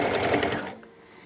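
A sewing machine fitted with a walking foot stitches terry cloth, a close whirring burst of rapid stitching that cuts off after under a second, leaving quiet.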